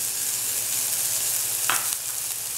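Onions and garlic fry in a pan for smoked herring and tomatoes, a close, even sizzle holding steady with one brief scrape partway through and no talking.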